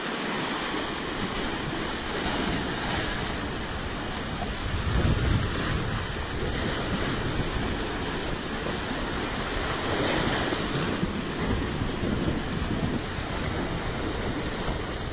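Large sea waves off Phu Quoc island wash and churn steadily under gusting wind noise, a dense, continuous roar with a stronger surge midway, close to the microphone and without voices.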